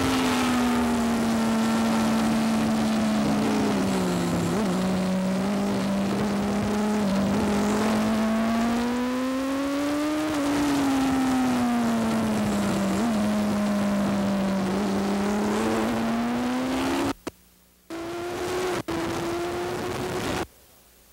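Onboard racing motorcycle engine at Brainerd International Raceway, its loud, close whine rising and falling as the rider works the throttle through upshifts and corners, with sharp cuts near the end as the throttle snaps shut and reopens.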